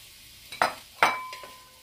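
Seven green onions with most of their green stems are sautéed in a pan for a fish and shrimp soup. Two quiet spatula scrapes and clinks stand out over a faint, steady background.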